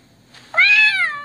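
A cat meows once from a 3D animal phone app (Google 3D animals): a loud, close, drawn-out tonal meow that rises and slowly fades, heard alone after a brief quiet lead-in.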